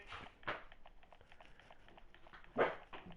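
A dog named Daisy barks several times in short, separate bursts, fairly close and moderately loud, with a stronger bark near the end and quieter yips between.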